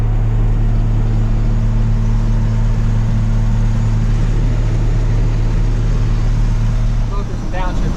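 International Loadstar twin-stick truck engine droning steadily from inside the cab while driving, a loud constant low hum throughout with a brief shift in tone near the end.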